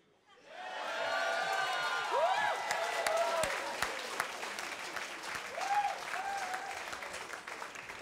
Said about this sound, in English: Round of applause for the laser Kiwi.